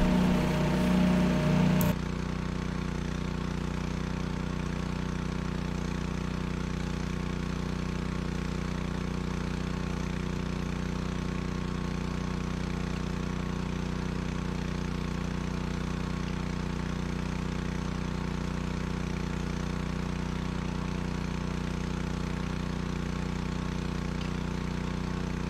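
Engine of a well-drilling rig running steadily, a constant droning hum that holds unchanged for over twenty seconds after a brief louder clatter at the start, with no talk.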